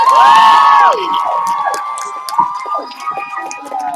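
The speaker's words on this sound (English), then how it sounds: "Give her a huge round of applause" A crowd cheers and whoops loudly at a martial arts belt ceremony, with high shouts from children rising over scattered clapping, the noise fading slightly after the first second.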